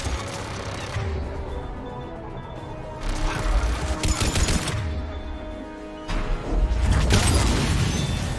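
Grenades exploding in a Mass Effect 3 firefight, with a few loud bursts and crashes roughly every few seconds over constant combat noise and scattered gunfire.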